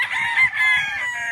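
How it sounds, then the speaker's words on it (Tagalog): A rooster on a Philippine livestock farm crows once, loud and close, the drawn-out call rising and falling over about a second and a half with faint background noise. "Kaya, yan yung manok."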